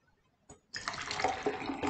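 Blueberry tea streams from the spout of a tea press into a cup, a brief drip followed by a steady, close pour of liquid that continues without a break.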